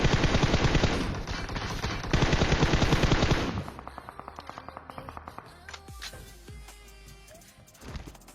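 M4 rifle fire in a shooting video game: dense, loud bursts of rapid automatic gunshots at close range, then sparser, more distant shots and clicks trailing off.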